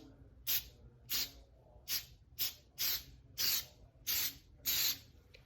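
A spray bottle misting a wooden gnome cutout gives eight short, bright hissing bursts at a steady rhythm, each about half a second long, close up over a low background hum.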